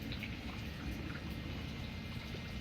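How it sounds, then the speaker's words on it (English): Light misting rain falls steadily over a backyard, a soft continuous wash of fine drops with no voices. "It is raining, but we kind of have a break in it."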